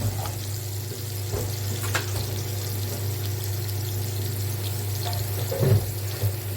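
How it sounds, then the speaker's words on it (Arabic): Garlic sautés in oil in a pan on a stovetop, a soft, steady sizzle over a constant low hum from the kitchen, with a few faint clinks and no talk. "نتشوحوا مع بعض"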